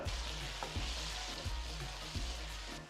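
Tomatoes sizzle and fry steadily in a hot pan, with soft scraping stirs at a regular pace and no voices.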